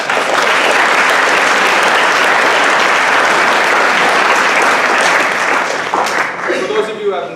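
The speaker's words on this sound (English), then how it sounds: "Let's give a round of applause for everyone that has made this happen." Dense, sustained applause from an audience at a high school spring sports awards ceremony, steady and loud for about six seconds before thinning out, with a voice starting to speak near the end.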